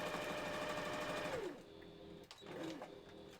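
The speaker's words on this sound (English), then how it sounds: "having it only half full actually gives you enough space to put it under the presser foot and sew it properly" Sewing machine running steadily up close as it stitches a half-stuffed candy corn pillow, then slowing and stopping partway through, followed by a few soft clicks and handling noises.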